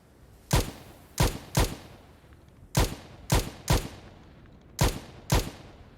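Enemy gunfire in a Game Guru Max first-person game: eight sharp, loud single shots spaced irregularly across a few seconds, each cracking out with a short decaying tail, no voices over them.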